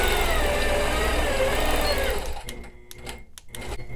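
A sewing machine stitches quilting swirls, running as a fast, steady mechanical whir for about two seconds before stopping, followed by a few quieter clicks and handling noises.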